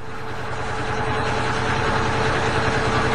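A boat engine runs on a coastal sightseeing trip beneath steep cliffs: a loud, constant low throbbing drone that stays even throughout with no voices.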